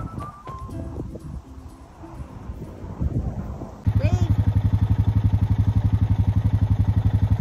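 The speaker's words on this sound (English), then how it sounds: "Ride the four-wheeler with Grandma." A four-wheeler ATV engine on a farm starts partway through and runs as a loud, steady, throbbing idle close by, after a stretch of voices and rustling clatter.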